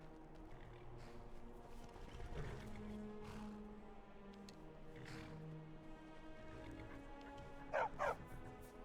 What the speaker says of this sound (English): Oh, this is my hunting dog.